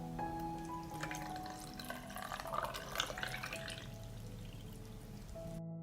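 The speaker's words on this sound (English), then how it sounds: "I fill the jars with water to cover the tomatoes" Water poured into 720 ml glass jars packed with tomatoes, salt and vinegar, a quiet steady stream with a light splashing peak midway, heard close against a low background hum.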